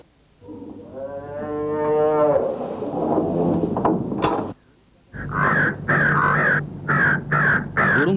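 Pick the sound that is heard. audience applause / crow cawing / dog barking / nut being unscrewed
crow cawing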